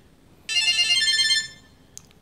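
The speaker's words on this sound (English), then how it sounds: "you get different ringtones here. Then volume you can set high or medium to your preference. Low, let's play low." Samsung Galaxy SmartTag playing its ringtone at low volume: a single bright, steady electronic chime lasting about a second, clear against a quiet room, followed by a tiny click.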